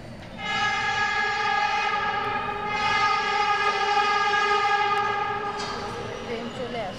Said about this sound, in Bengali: ট্রেন চলে আসছে, আমরা যাব।